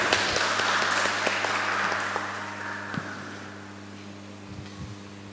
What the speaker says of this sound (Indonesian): Kita berikan aplaus untuk mereka berdua.